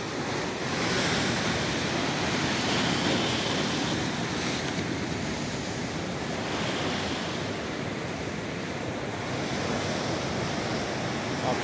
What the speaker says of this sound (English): Offshore tide's breaking out there.